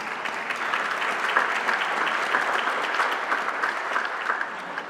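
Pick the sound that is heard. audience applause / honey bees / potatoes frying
audience applause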